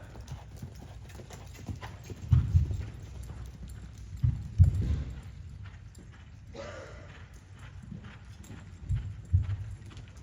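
A horse loping around an arena during a schooling ride before a show, with rhythmic bursts of hoofbeats that rise and fall in groups, moderately close over a steady low rumble of movement.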